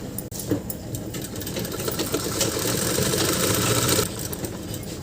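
Sewing machine stitching fabric for a kurta: a continuous, fast mechanical whirr with a steady rattle, running throughout the clip at moderate loudness.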